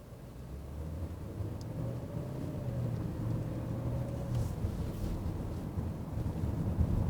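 Inside a Genesis G90 flagship sedan pulling away, a quiet, steady low road-and-engine hum with a faint whine, growing slightly louder as the drive goes on.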